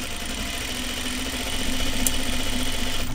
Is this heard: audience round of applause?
no